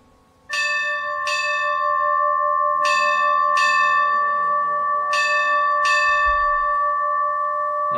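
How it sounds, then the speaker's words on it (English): A clear, ringing steam locomotive bell on an LNER Gresley A3 in a train simulator game, struck in a steady repeating rhythm with a sustained metallic hum between strokes. "So here's the bell."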